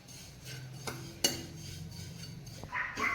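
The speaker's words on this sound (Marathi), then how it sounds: "त्यासाठी इथं हे बघा शेवया भाजून घेते." Vermicelli toasting in ghee in a pan, stirred with a spoon: a steady run of soft scraping and a few sharp metallic clinks against the pan, close by, with no voices.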